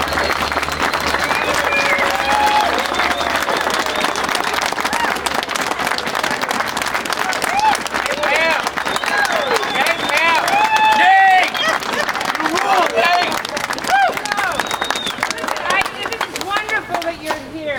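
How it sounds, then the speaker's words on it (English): Loud, sustained applause from a crowd at a rally, dense clapping filling the whole stretch with scattered cheers and voices mixed in, holding steady from start to finish. "Let's give them a big round of applause."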